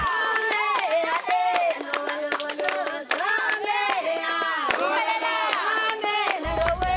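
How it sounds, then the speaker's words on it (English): Several women in Madagascar sing together in a lively, rhythmic chorus, accompanied by steady hand clapping, loud and close. "some women started to sing and clapping hands"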